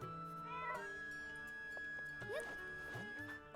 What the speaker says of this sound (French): Le petit chat.